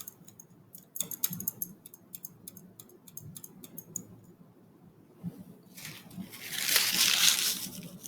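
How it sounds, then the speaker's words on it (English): A test tube holding aluminum foil and distilled water is stirred, giving quick clinking taps against the glass followed by a louder swirl of sloshing water, all close and free of talk. "And we will give it a stir to see if it dissolves."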